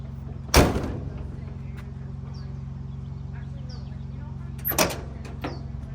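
A car door with a freshly repaired door panel shuts with one solid, loud thump, followed seconds later by a softer second knock and faint rattles over a low steady hum.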